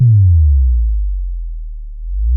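A low synth sine tone, its pitch and filter modulated by an LFO, drops smoothly in pitch, then holds as a deep hum before a brief rise at the end.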